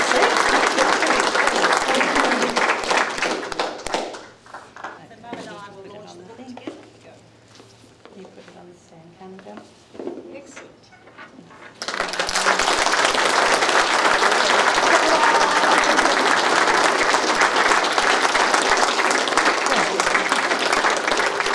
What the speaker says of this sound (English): I think a round of applause for our incredible speakers in Paul and Adrienne